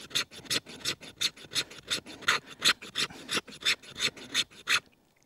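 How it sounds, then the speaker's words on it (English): The spine of a Work Tuff Gear Voyageur knife scrapes fatwood in about fourteen quick, rasping strokes in a steady back-and-forth rhythm. It sounds close and crisp, then stops abruptly, with no talking. "Let's do a little fatwood scraping."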